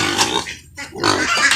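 Pigs on a pig farm grunt and oink in loud, close bursts, with a brief quiet gap midway before more snorting resumes.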